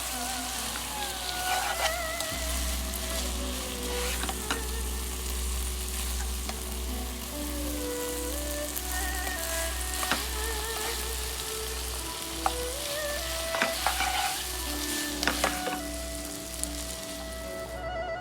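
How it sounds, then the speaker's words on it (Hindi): Vegetables for a Chinese sizzler are sautéed and stirred in a hot pan, giving a loud, continuous crackling sizzle broken by repeated spatula scrapes and clacks. "सौटे करते हुए अच्छे से मिक्स करेंगे।"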